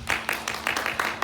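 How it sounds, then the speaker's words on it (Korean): A high-school church youth service audience applauding to welcome newcomers, steady rhythmic clapping from a small group at close range, quick and even. "처음 나온 친구들 위해서 우리 격려의 박수 해줄까요?"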